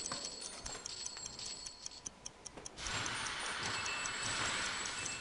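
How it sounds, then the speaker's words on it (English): Train from the railway-building game Sid Meier's Railroads rolling along, a steady clicking rhythm of wheels on rail joints over a rumbling bed that swells louder midway through, heard alone with no talk. "Hello, little train."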